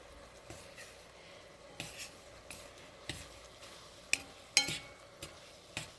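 Ramen noodles with an added red sauce and seasoning powder being mixed in a bowl, giving soft, repeated scraping and clinking strokes at an irregular rhythm, close and fairly quiet, with no talking.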